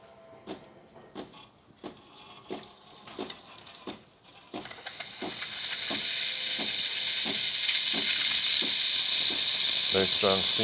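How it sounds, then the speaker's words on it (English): Steam wand of a Delonghi Magnifica espresso machine: a series of mechanical clicks and knocks, then a loud steady hiss of steam that keeps building to the end. "let's go ahead and test the steam"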